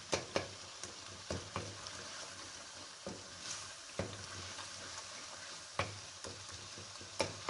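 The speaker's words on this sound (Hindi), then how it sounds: "ये देखिए थोड़ा सा मज़ीद भूनेंगे 2 मिनट" Tomatoes for chicken jalfrezi frying in a pan, a soft continuous sizzle broken by regular sharp spoon scrapes and taps against the pan; no speech.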